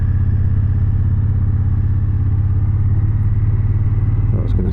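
2009 Triumph Thunderbird motorcycle engine pulling hard under acceleration, a loud, steady low rumbling throb with wind noise throughout.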